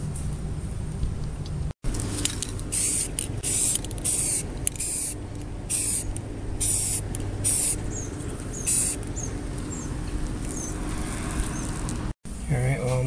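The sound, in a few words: spray painting a bolt cutter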